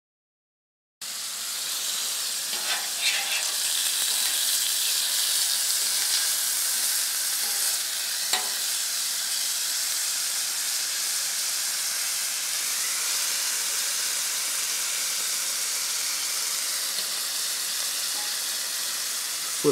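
Red squirrel meat fries in a hot pan with a loud, steady hiss and crackle that starts abruptly and continues unbroken, with one brief clatter partway through as the meat is flipped.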